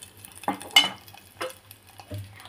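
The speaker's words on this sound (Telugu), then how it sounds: "ఇదంతా వేగేసి కలపాలి" Curry leaves and turmeric tempering in a pan for tamarind pulihora, with a few brief, separate bursts of spoon scraping and a soft sizzle underneath, close by.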